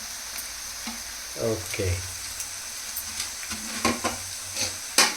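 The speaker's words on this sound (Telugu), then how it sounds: "మొత్తం గోల్డెన్ బ్రౌన్ కలర్ వచ్చే వరకు ఫ్రై చేసుకోవాలి" Green chillies and curry leaves frying in a pan, a soft, steady sizzle broken by several sharper crackles and pops, with a brief spoken word partway through.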